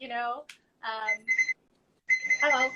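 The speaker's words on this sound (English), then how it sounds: "Oh, there goes my timer again." A kitchen timer going off while baking bibingka, rapid electronic beeping in bursts separated by short pauses, loud and close.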